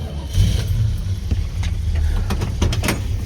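A car engine with fuel bottle-fed under the hood cranks and fires, then runs with an uneven, loud idle and a few sharp clatters and knocks close by.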